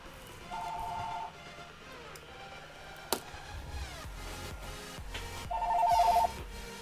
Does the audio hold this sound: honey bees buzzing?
no